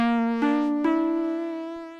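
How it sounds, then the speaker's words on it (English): Omnisphere's Cheese on Tape synth preset from the Unclean Machine library sounds a bright, buzzy sustained note rich in harmonics, with a slight upward shift and two soft clicks early on, heard alone and slowly fading. "I've gone with the synth cheese on tape preset right here from Unclean Machine."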